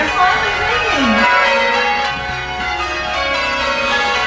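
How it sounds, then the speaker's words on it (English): Church tower bells chime with sustained ringing tones that hang and overlap, heard alongside a voice that carries over the top of them, in a Christmas drama. "They're ringing. They're finally ringing."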